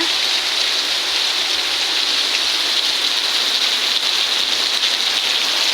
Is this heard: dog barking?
no